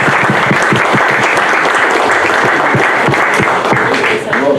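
Loud, sustained applause from an audience at a talk on the future of cancer treatment, a thick continuous roar of clapping hands with no pauses.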